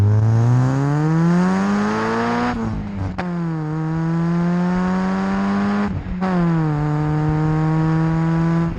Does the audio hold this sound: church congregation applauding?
no